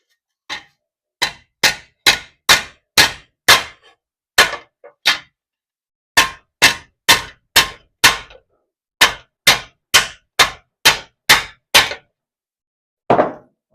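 A hammer taps a socket held at the corner of a vise, sharp metallic strikes loud and close in quick bursts of six or seven with short pauses between, the work done on a rotted 1979 Plymouth Volare wagon.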